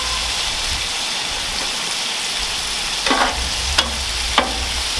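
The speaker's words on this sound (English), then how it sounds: "I'm going to add one of my favorite things, and that is green enchilada sauce. We're just going to let it kind of cook" Green enchilada sauce simmering in a pan gives a steady, fairly loud sizzle and bubbling hiss, with a few sharper spatters or stirring scrapes near the end; no talking.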